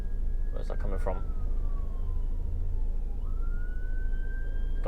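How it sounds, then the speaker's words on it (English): A siren wails faintly in the distance, slowly falling then rising in pitch over steady road rumble, with a brief voice near the start. "oh, we have a siren somewhere. Where's that coming from?"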